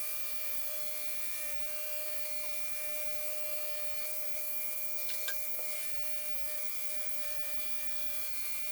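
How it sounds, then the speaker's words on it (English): A sander runs steadily on wooden cutting boards with 150 grit paper in aggressive mode, a continuous high whine with a constant tone, plus a couple of brief scraping bumps near the middle. It is fairly close and has no talk over it. "actually able to remove the plane marks with 150 grit paper on the aggressive mode of this sander"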